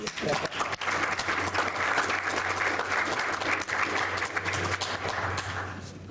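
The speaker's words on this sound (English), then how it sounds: "How about a round of applause for John?" Applause at a Glasgow city council meeting, a broad, continuous patter of many hands filling the room at steady volume, with a low hum underneath and faint voices mixed in.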